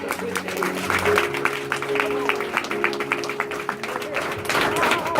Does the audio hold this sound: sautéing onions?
no